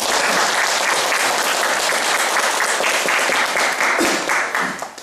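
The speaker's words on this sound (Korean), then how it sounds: "오늘 좋은 강의를 위하여 큰 박수 다시 한번 부탁드립니다" An audience at a lecture by the mayor of Tongyeong gives a big round of applause, a loud, continuous roar of many hands clapping that fades just at the close.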